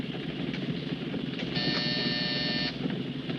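Inside a moving vehicle, a steady buzzer sounds for about a second above a constant rumbling engine and road noise.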